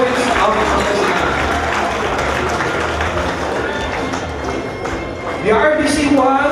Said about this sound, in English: Another round of applause for the province of Pangasinan.